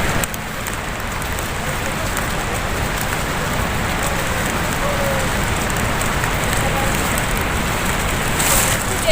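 Rain falling on the cloud-covered mountain path to Amarnath near Baltal, a dense, constant hiss that holds steady throughout, close and loud.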